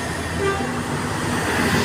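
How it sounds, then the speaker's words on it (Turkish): Steady low rumble of a train departing Köşk station, with a brief faint tonal whine above the noise. "Şimdi diğer tren kalkacak."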